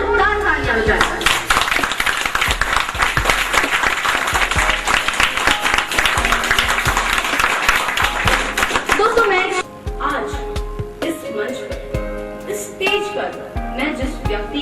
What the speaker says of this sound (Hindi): मैं इस बात के लिए आपके सम्मान में अपने आप के लिए जोरदार तालियां बजाता हूं